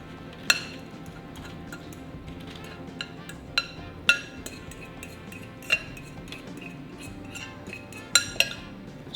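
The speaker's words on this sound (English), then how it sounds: "I'm just gonna use the back of my wooden spoon to spread this into a nice single layer." A wooden spoon scoops maple walnut granola onto a baking sheet and spreads it, making soft scraping rustles punctuated by scattered sharp clinks and taps against the metal.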